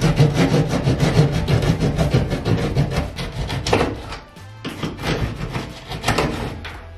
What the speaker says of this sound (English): This is actually a knife that we use to cut drywall.